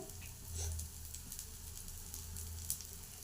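Ponganalu (paniyaram) batter cooking in a pan, giving a faint, steady sizzle with soft crackles and a low hum underneath, heard alone.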